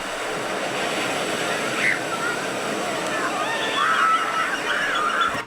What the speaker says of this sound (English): it sounds like a whole lot of kids are playing at the beach. We got the birds